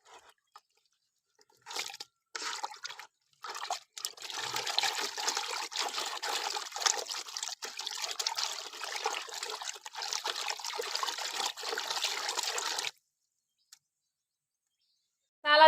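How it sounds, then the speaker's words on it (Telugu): Water is poured away outdoors in a village setting with red soil, trickling and splashing steadily for about eleven seconds before stopping abruptly. "వంపేసే ఆ నీళ్ళు."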